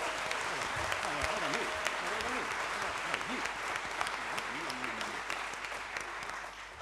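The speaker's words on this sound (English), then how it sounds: "Give one more round of applause." Sustained applause from a theatre audience at a science comedy show, steady dense clapping throughout while voices chatter and call out underneath.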